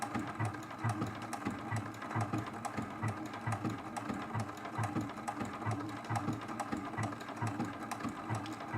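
A sewing machine sews a blanket stitch in black thread on black fabric for a quilt-as-you-go block, a close, steady rhythmic chatter of needle strokes with no pauses.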